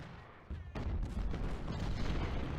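A musket volley from massed infantry at Gettysburg in Ultimate General: Civil War erupts suddenly after a quiet moment, then rolls on as a dense, rumbling crackle of scattered shots.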